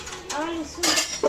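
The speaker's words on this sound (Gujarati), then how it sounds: "ગાઈસ મમ્મી વાસણ ઘસે છે" Dishes being washed at home, with pots and metal utensils clattering and clinking in short bursts close by while a voice talks over them.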